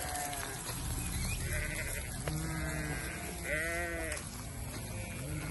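A flock of young breeding sheep bleat repeatedly, several overlapping calls rising and falling, close and loud against steady outdoor background noise.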